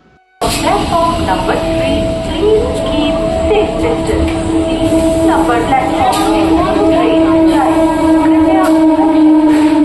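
An AC local train running in Bengal gives a steady, loud rumble from the carriage, with no clear breaks over the ride. Voices can be heard over the noise.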